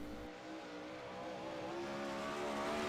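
A 360 non-wing sprint car engine at the virtual dirt track at Charlotte in a racing video game, a steady droning roar that rises slightly in pitch, loud and continuous with no voices.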